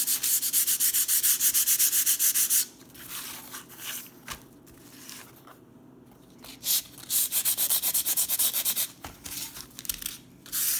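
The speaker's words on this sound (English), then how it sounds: "I'm going to come back and sandpaper. Now I'm going to take and sand this to lighten up all my dark" Sandpaper rubbed by hand over painted wood wall decor, a steady scratchy rasp in long strokes that pauses briefly and then resumes, close and fairly quiet, with no talking.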